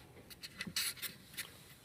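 A pen or pencil tracing around a disc, a series of faint, close scratchy strokes in irregular bursts, one slightly longer scrape in the middle, over a quiet background.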